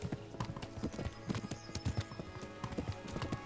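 Horses gallop in the medieval game Kingdom Come: Deliverance, hooves pounding in a fast, dense clip-clop rhythm that fills the whole stretch at steady, close volume, with no talking.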